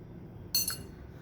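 Small spoon dropped into a container of water for a kids' sink-and-float experiment, giving one sharp, bright clink followed by a brief ring in an otherwise quiet room.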